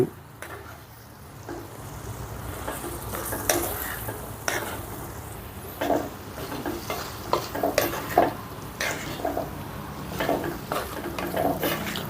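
Garlic chili masala sizzles in hot oil on a low-flame stove while a spoon stirs the pan, a steady frying hiss under repeated scraping and clinking strokes, close and fairly loud.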